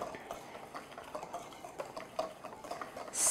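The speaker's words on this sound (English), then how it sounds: "So I'm just going to take my wire whisk." A wire whisk mixes the dry ingredients for an apple gingerbread cake in a bowl. Light, quick, irregular clinks and scrapes stay faint and close, with no voice.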